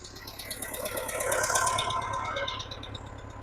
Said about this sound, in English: Let's see if the PTO shuts off when the clutch gets pushed in.